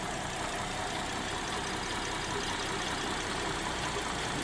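A 2012 GMC Acadia with a 3.6 LLT V6 idles on its first start after assembly, a steady, even, continuous engine hum at constant level, with no voices.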